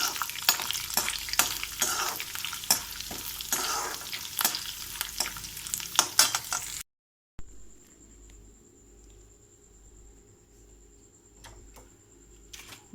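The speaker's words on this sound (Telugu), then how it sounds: "కొంచెం ఆయిల్లో బాగా వేగాలండి మిర్చీస్" Green chillies frying in a little oil in a pan while a khichdi with sago is being made. A steady sizzle with stirring scrapes runs for several seconds, then a short gap leads to a quieter, thinner crackle with faint ticking.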